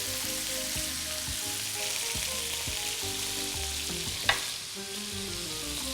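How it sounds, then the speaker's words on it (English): Meat browning in very hot oil in a pan, a loud steady sizzle and crackle that runs throughout with a brief clatter partway through; no talking. "we want to brown it and sear all those wonderful juices in"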